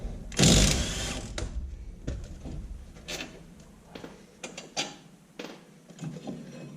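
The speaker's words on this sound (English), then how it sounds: "Now I can go ahead and take the other caliper bracket bolt off." A caliper bracket bolt being removed from the brake assembly of a 2001 Chevy Silverado, with irregular mechanical clicks, ratcheting and metallic knocks spread across several seconds, close by and without speech.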